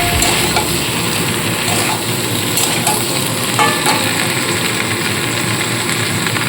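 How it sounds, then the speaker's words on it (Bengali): Eggplant gets stirred with ground spices in a hot frying pan, giving a steady, close sizzle and fry with light scraping from the stirring and no voices. "বেগুনটা দিয়ে একটু নাড়িয়ে চাড়িয়ে নিয়ে এর মধ্যে একটু গুঁড়ো মশলা অ্যাড করে দেবো"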